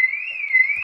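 A car alarm tone from the NVDA screen reader's clock add-on, heard as a single steady electronic tone lasting under a second, loud and alone before cutting off abruptly.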